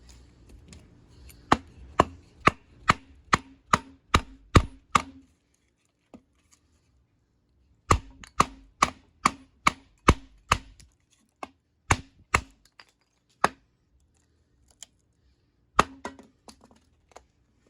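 The Huntsman knife batoned across wood, a run of loud, evenly spaced sharp cracking strikes, a pause, then another quick series followed by a few scattered knocks, close and alone.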